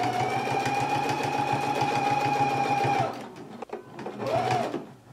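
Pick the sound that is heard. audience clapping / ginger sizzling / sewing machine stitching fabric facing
sewing machine stitching fabric facing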